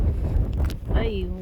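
Strong wind buffets the microphone in a loud, steady roar during a Southern California blizzard, with a voice speaking briefly over it.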